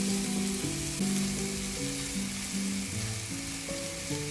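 Mixed vegetables with rosemary and smoked paprika are stirred as they fry in a pan, giving a steady, close sizzle throughout with no voices. A musical backing plays over it.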